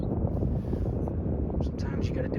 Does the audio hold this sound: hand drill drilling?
no